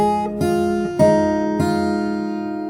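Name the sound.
fingerstyle guitar playing a phrase of a song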